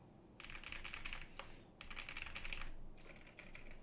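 A custom Crush 80 Reboot Pro keyboard with thick double-shot keycaps and silent switches is typed on in three quick bursts of muted, rapid clicks, close and fairly quiet, with no speech.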